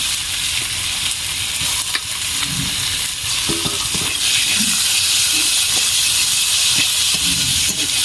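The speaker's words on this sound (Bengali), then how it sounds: "মশলাটা কষানো হয়ে গেছে, এবার আমি কাঁচা চিংড়িটাই মশলার মধ্যে দিয়ে দেবো।" Raw prawns dropped into cooked-down spice masala in a pan: a loud, steady sizzling hiss throughout, with soft stirring scrapes, close up and without talk.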